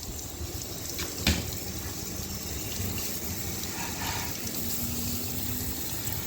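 Water from a hose sprays and rinses cleaner off a car exhaust tip, a steady hissing wash with a brief sharp knock early on.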